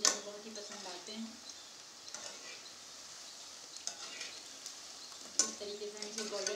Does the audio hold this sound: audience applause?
no